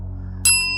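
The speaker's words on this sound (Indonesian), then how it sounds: "disertai dengan bunyi-bunyian yang gua rasa seperti lonceng" A bell sound effect: after a quiet low hum, a single bright strike rings out suddenly and keeps sustaining clear tones to the end, loud and alone.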